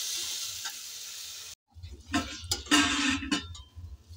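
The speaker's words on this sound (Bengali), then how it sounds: "পানি দিয়ে দেবো, পানি দিয়ে আমি একটু নাড়াচাড়া করব" Dal and potatoes in a pan with water, a hissing sizzle that cuts out abruptly, then returns with splashy stirring, scraping and knocks of a spoon against the pan, close and uneven, no talking.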